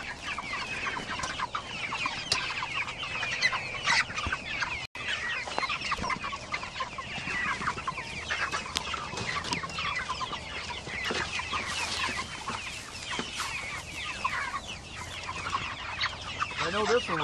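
Chickens cluck continuously on a farm, a dense flock close by with busy overlapping calls and occasional louder squawks, heard without talk.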